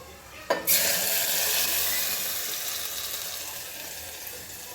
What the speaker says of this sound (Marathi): आपल्या अंदाजानुसार त्यामध्ये पाणी ॲड करायचं.